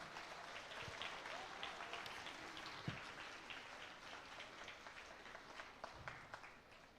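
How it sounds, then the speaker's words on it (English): Audience applause after a dance performance at a Salesian centenary celebration of a priestly ordination, a steady wash of clapping that holds throughout and tapers slightly toward the end. "Once more, thunderous clap for them."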